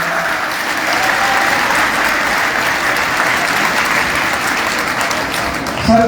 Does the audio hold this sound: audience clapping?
yes